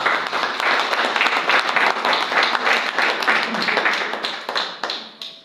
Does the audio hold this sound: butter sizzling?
no